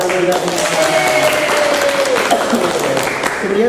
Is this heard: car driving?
no